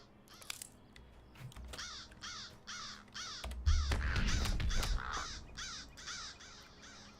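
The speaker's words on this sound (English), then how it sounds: "Well, that's all 6 of the crows I had to drive off." Crows cawing repeatedly in the video game Lord of the Rings Online, a steady run of harsh calls at moderate distance over a low rumbling ambience, with a brief thud midway.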